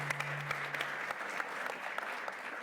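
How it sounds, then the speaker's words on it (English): Audience applause at an Arctic security and defence fireside chat, a steady spread of clapping from a seated crowd with a few sharper individual claps standing out, at moderate, even level. "I think it's worth a round of applause here for that commitment to our university"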